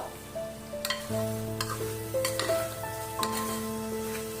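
A vegetable biryani mix with salt is stirred in a pressure cooker, a steady sizzle with scraping spoon strokes against the pot, close and alone without talk.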